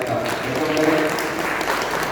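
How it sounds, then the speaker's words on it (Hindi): Applause fills a hall at a tablet distribution ceremony in Banda, a steady wash of clapping from a seated crowd with a voice faintly underneath. "सभी के लिए एक साथ तालियां बजा करके आप"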